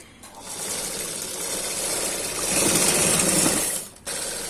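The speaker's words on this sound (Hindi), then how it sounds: "तो हम अभी से सिलाई करते हैं।" A sewing machine stitches a closed-neck collar blouse, giving a steady, close mechanical whirring rattle that runs for several seconds, pauses briefly, then resumes.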